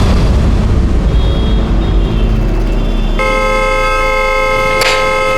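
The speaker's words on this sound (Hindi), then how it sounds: "अरे कौन है ये नॉन स्टॉप हॉर्न बजा रहे?" A car horn blares continuously from about the three-second mark to the end, loud and steady, over a dense low rumble of traffic or engine noise with no talking.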